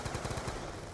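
AN-94 rifle fire in Black Ops 2 Zombies, a rapid burst of several quick shots at moderate loudness, tapering off within a second.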